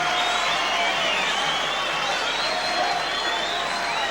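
Large boxing arena crowd cheering and roaring for challenger Larry Holmes's ring entrance, a steady dense wash of voices and whoops, with a commentator talking over it.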